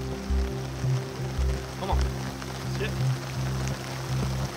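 Rain falls on a disc golf course as a steady wash of drops. Low, pulsing rumbles and hum run beneath the rain throughout.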